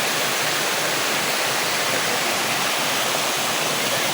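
Nalalata Falls in Bula, Camarines Sur, Philippines, roars as a loud, close, constant rush of falling water, dense and unbroken throughout, with no voices.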